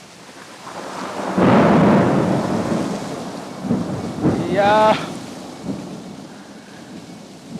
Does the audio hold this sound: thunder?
yes